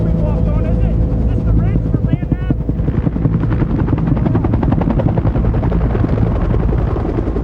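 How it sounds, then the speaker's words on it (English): A UH-1 Huey military helicopter flies close and loud, its rotor chopping in a steady rapid beat with a heavy engine drone throughout, and a few brief overlapping voice-like tones early on. "You're flying the helicopters and the infantry into a landing zone"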